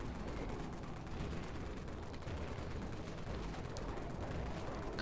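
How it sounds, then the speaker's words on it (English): Dense, continuous rumbling blasts from an Emulator grenade launcher in the game Dead Frontier, steady and heavy with no clear gaps, fairly quiet overall. "What kind of nade launcher is that?"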